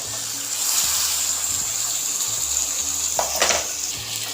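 Tomatoes and green chillies frying for beef dum biryani give a steady, close sizzle throughout, with a brief scrape of stirring near the end.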